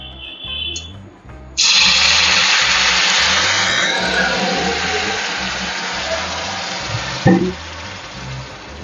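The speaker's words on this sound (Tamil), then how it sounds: "அதை தண்ணி ஊற்றிக்கலாம்." Water poured into hot oil in a kadai for a Tamil chicken chops recipe bursts into a loud, steady sizzling hiss that holds for several seconds, with a clatter near the end.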